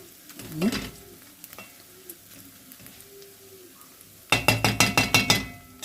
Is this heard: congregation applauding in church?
no